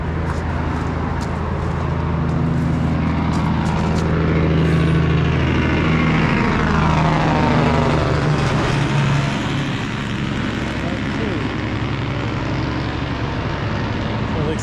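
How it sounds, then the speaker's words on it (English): A truck engine's exhaust brake rumbles loud and near around Dunsmuir, California, in a dense, continuous roar with a throbbing low drone early on. "Somebody has exhaust brakes."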